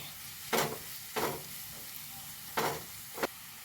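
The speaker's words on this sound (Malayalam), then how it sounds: "അരിഞ്ഞെടുത്ത് വെച്ച ചെറിയ പച്ചമുളക് ഇളക്കി കൊടുത്തേ" Chopped small green chillies being stirred in a frying pan, four short scraping stir strokes with a soft sizzle between them, close and fairly quiet.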